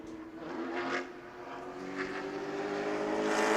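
A Pro Late Model race car lapping New Smyrna Speedway in qualifying, its engine a steady distant drone that swells slightly as it passes, heard without speech.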